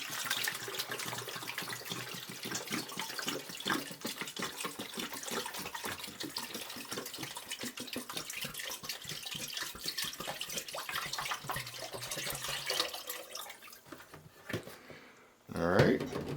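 Water pours from a tap into a cooking pot while ginger wine is being made, a steady splashing rush that keeps going for over ten seconds before stopping, with a person talking over it.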